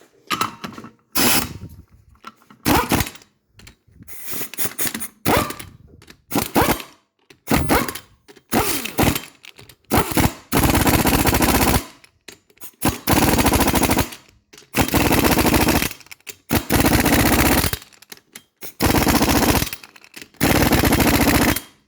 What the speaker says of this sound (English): this torque stick is going to make sure that each one of these wheel nuts is tightened to 100 foot-pounds